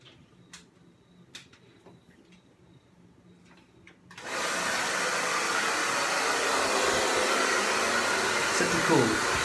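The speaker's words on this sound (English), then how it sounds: "I'm going to use a hairdryer." Hair dryer set to cool blowing on a shaved head, switching on abruptly after a few quiet seconds of light ticking and handling, then a loud steady close whoosh.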